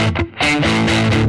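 An electric guitar played through an Astral Drive overdrive pedal rings out loud and close, with gritty, saturated sustained notes after a short choppy attack and no talking over it.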